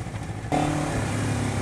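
A Honda CBR250RR motorcycle engine drones steadily during a test ride, loud and close, its pitch stepping up partway through as the revs climb, with a constant rushing wind-like noise around it.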